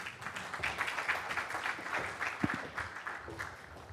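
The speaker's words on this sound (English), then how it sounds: "Please, a big applause for Eric, the IT guy, Hendricks." An audience applauding a speaker at a Linux conference day in Vancouver, soft and somewhat distant clapping from a modest crowd, fairly even with a few sharper individual claps.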